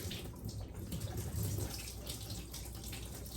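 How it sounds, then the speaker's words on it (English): Soaking water poured out of a seed-sprouting jar through its perforated lid, a steady close splashing stream that runs continuously without pause, with no talking over it. "I'm going to go ahead and empty out all of this water"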